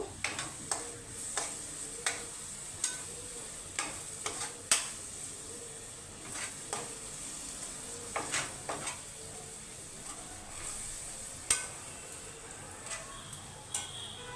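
Yogurt being mixed into a Bengali bhetki fish curry gives a low sizzle under a regular series of light ticking clinks from a utensil against the pan, close and fairly quiet.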